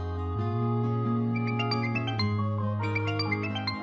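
A phone rings with a bright melodic ringtone, a short tune of tinkling notes over a sustained tone, loud and close, with no talking.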